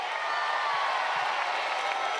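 A crowd at a Fortnite pro-am charity event claps and cheers, a dense, steady wash of applause heard from within the audience.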